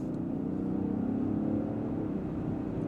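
A 2024 Range Rover Sport P400 pulling away from a stoplight, its engine a steady, moderately loud hum that swells gently as the SUV gathers speed.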